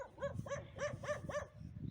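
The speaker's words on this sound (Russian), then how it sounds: "Вон там собачка." A dog barks nearby in a quick run of five or six sharp barks, fairly quiet overall, outdoors next to a greenhouse with no talk over it.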